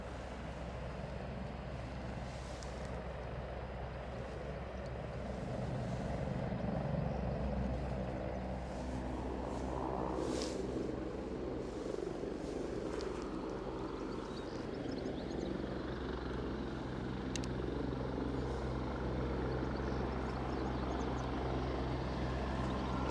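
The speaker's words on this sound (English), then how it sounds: "Sounds like we're getting a bit more chopper time." A helicopter at Aberdeen airport makes a faint, steady rotor and engine drone that swells slightly midway and holds for over twenty seconds, distant and alone, with brief clicks and bumps scattered through.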